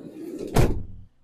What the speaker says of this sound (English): Let me shut the door behind you.